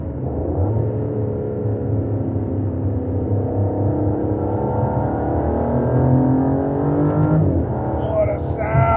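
Aston Martin DBS engine revving while driving, a loud continuous rumbling drone with rising and falling pitch as it accelerates, close and steady throughout, with a brief higher mechanical whine near the end.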